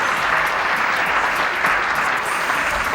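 Studio audience at a comedy show breaks into loud, continuous applause, a dense and steady wash of clapping from many hands, close and full throughout.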